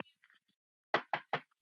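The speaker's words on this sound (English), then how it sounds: "Can you do that? Knock for yes." An elderly caller taps the phone three times in quick, evenly spaced succession as knocks to answer yes during an emergency call. The knocks are close and sharp, following a few faint, muffled sounds.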